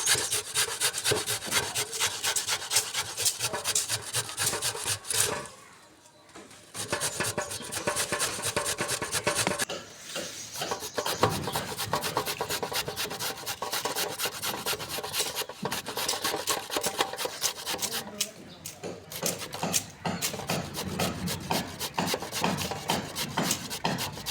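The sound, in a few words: carrots being finely chopped with a kitchen machine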